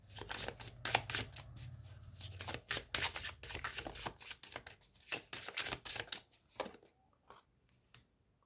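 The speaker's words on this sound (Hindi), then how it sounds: "तो सबसे पहले हम कार्ड शफल कर लेते हैं" Tarot cards shuffled by hand in a rapid, steady run of crisp riffling and flicking for about seven seconds, close and fairly quiet, tapering off near the end with no talk.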